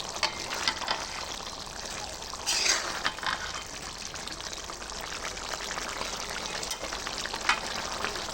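A pan of bottle gourd and shrimp curry sizzles and bubbles continuously as its water cooks down, a steady close frying hiss with a brief louder splash partway through.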